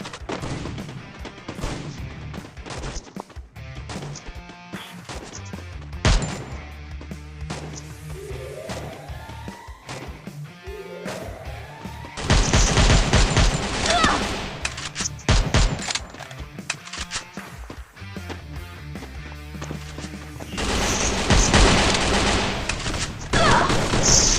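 Rapid bursts of gunfire from the video game Free Fire, dense clusters of shots running through the whole stretch with louder volleys in the middle and near the end.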